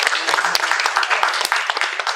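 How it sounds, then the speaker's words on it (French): An audience at a televised Senegalese school quiz between Collège franco-arabe Daara Rama and Lycée privé Birago Diop breaks into dense, steady applause that fills the whole stretch, with a voice faintly mixed in. "Est-ce qu'on peut applaudir pour le journal?"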